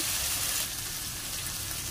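Spices and ginger-garlic paste fry in hot oil with a dense, continuous sizzling hiss that stays loud and even throughout.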